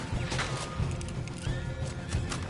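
Horses in a video game whinny and neigh several times over a rumble of hooves, the calls rising sharply above the clatter at moderate loudness.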